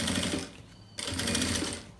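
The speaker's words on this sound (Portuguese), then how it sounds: "eu passo aqui a costura aqui na beiradinha" Sewing machine stitching a seam along the edge of fabric strips for a jewelry box, a steady close whir that breaks off briefly midway and then resumes just as loudly.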